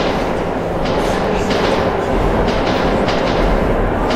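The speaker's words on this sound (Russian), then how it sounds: "Смотри, призрачный поезд." A ghost train thunders through a metro tunnel in Metro 2033 Redux, a loud, continuous roar with rattling clickety-clack from the wheels, close and swelling as it passes.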